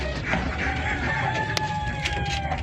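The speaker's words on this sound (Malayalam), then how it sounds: "4 പൂവൻകോഴി ഉണ്ട് കേട്ടോ." A rooster crows at a farm where several roosters are kept, its call rising clearly over a steady bed of low background noise and other fowl sounds.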